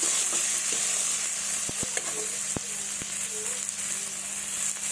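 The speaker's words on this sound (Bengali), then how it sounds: "পেঁয়াজগুলো হালকা লাল করে ভেজে নেব" Chopped onions frying in oil in a pan while being stirred, a loud continuous sizzle with several sharp scrapes and taps of the spatula scattered across it, no voices.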